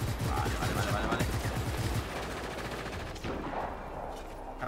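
Gunfire in the video game Just Cause 3, rapid bursts of automatic shots crackling over the first two seconds, then a fainter busy rumble of combat, loud and close.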